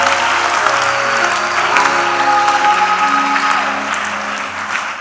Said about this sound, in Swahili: Piga makofi kwa Yesu